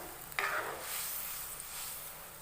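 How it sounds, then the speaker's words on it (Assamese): Small fried fish being stirred in a pan of simmering ginger gravy: a single quick scrape of the spoon, then a faint, soft sizzle and bubbling, with no one speaking. "মই ধুনীয়াকৈ ভাজি থোৱা মাছকেইটা এনেধৰণে দি দিম দি পেলাই অকণমান এনেকৈ লৰাই দিম"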